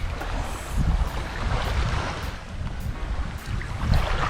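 A boat passes close by at sea during shore fishing, recorded on a GoPro Hero 8: a steady engine rumble and churning water under gusty wind noise on the microphone, with no voices.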